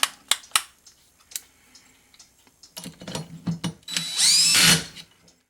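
A screw is tightened by hand in a workshop, with several short sharp clicks and ratcheting taps followed by a brief, louder grinding burst near the end, close and otherwise quiet.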